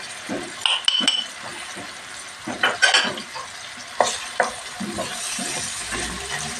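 Tomato paste frying in a pan for an okra stew, a steady soft sizzle with stirring scrapes and a few utensil clinks against the pan, close and alone.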